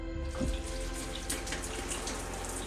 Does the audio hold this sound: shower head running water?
yes